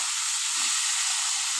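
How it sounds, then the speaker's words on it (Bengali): Tomatoes with turmeric and salt fry in a pan for a Bengali tomato tok, giving off a steady, even sizzling hiss at moderate volume with no other sounds. "এবার বেশ ভালো করে ভেজে নেবো।"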